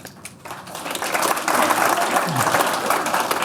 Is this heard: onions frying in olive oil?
no